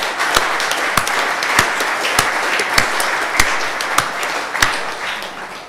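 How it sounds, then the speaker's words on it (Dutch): Applause fills a city council chamber in Leeuwarden, a dense steady clapping crowd with sharper individual claps standing out at regular intervals, continuing throughout without talk. "Ik zou zeggen applaus voor de naasten"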